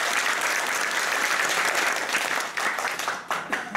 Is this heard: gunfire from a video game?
no